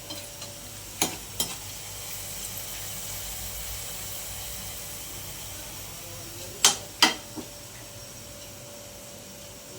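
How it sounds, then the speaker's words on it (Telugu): Onions fry in a pan for chicken biryani under a faint steady sizzle, with a few sharp scraping clicks of stirring in two brief clusters. "ఉల్లిపాయలు వేయిస్తున్నారనమాట"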